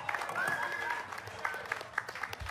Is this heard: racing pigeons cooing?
no